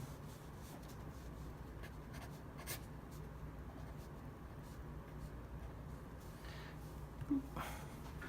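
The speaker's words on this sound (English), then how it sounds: "So let's sign our drawing somewhere." A pen scratches across paper while signing a finished drawing, a faint, steady scribbling that runs quietly throughout with a small tap near the end.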